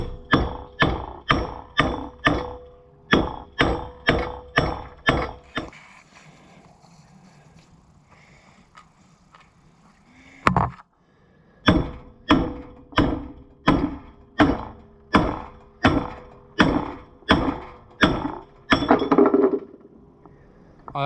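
Worn Snap-on hammer striking metal, rapid bursts of sharp ringing blows in quick rhythmic runs, close and loud, broken by a quieter pause with one lone strike before the hammering resumes.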